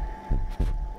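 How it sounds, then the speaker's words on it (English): Heartbeat sound effect from an anime soundtrack: two deep, muffled thumps in quick succession over a low steady hum. "With heartbeat noises."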